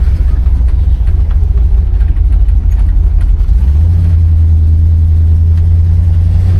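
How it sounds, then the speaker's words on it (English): A 1970 Oldsmobile Cutlass engine runs steadily and loudly at idle, a deep continuous rumble with a slight shift in tone partway through and no squeals or rattles. "Motor sounds strong. I don't hear any belt squealing or any other rattling or anything."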